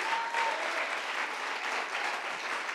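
A church congregation during a sermon service breaks into dense, steady applause, a continuous wash of many hands clapping at moderate distance with no speech on top.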